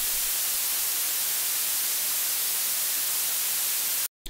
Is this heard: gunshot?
no